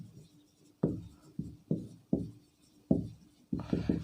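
A pen or chalk writes out a trigonometry equation on a board in a quiet room, making a string of short, distinct scratching strokes with brief pauses between them, close and fairly clear.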